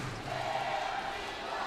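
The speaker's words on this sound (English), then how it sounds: "And the chant goes up from the crowd here in the Taeyang Gymnasium in Incheon." A badminton crowd in Taeyang Gymnasium, Incheon, at the Asian Games men's singles, sends up a steady chant, a sustained roar that fills the whole moment without pause.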